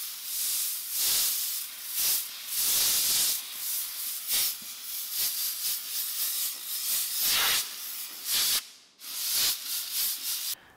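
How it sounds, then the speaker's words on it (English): Compressed air hisses in repeated bursts as it is blown through a K&N air filter from the inside, loud and close, with short pauses between blasts and no talking. "we're gonna blow out the filter from the inside with compressed air"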